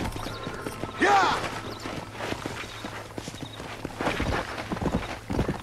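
Horse hooves clip-clop in the Red Dead Redemption video game, a short run of steps under faint ambient game sound, with a brief whinny-like call near the start.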